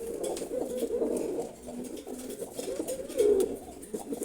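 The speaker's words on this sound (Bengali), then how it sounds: "খাকি জোড়া কবুতর" Pair of young khaki pigeons, a male and a female, cooing steadily at close range, with soft repeated coos that swell louder near the end and no talking over them.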